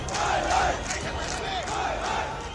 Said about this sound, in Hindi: जमकर नारेबाजी होने लगी